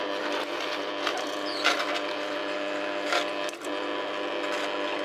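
Kuvings juice extractor, a REVO830 or EVO 820 model, juicing leafy greens with a steady close mechanical whir and grind, plus a few brief crunching bursts as leaves are drawn in.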